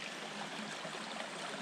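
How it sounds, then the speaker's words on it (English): A stream of running water flows along a hiking trail where it follows a stream bed, giving a steady, even rushing wash with no voices and no breaks. "Or it goes down a stream bed. So there's running water in it"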